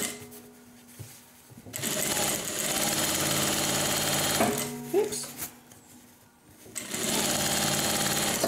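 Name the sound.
sewing machine stitching seam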